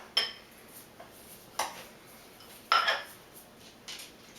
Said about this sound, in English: Go ahead, get in there, mix it good with that spoon.